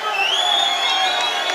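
Crowd at a bare knuckle boxing title fight cheering and shouting in a brief loud burst, with a commentator's voice running over the noise.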